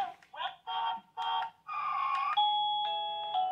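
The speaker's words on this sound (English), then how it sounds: "okay, so that's what I chose for this doorbell" A wireless doorbell chime kit plays a multi-note electronic melody, several bright tones in a row with the last ones ringing out longer, clear and alone.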